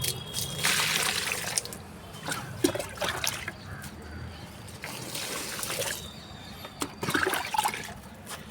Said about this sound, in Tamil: இதே மாதிரி எல்லா செடிக்கும் தண்ணி ஊற்றுங்க